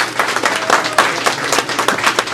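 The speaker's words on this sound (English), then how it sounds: "Give our panelists a round of applause," An audience at a high school alumni career panel claps for the panelists, a close, lively burst of individual hand claps with a few scattered voices beneath.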